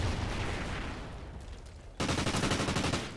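Gunfire in the shooter game Call of Duty: Ghosts, a dense rattle of rapid shots that fades, then a sudden louder burst of fast repeated fire close by, no talk.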